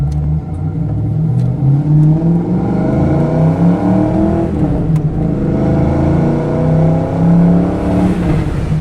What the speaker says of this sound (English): Good sound from those Flowmasters.